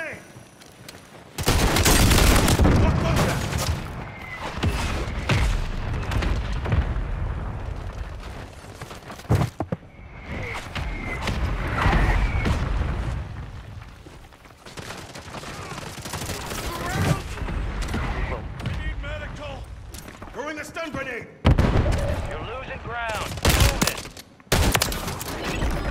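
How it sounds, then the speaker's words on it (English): Call of Duty combat with sustained gunfire and grenade explosions, bursts of shots and booms rolling across the whole stretch with a few sharp loud blasts near the end, while players talk over the fighting. "Throwing grenade."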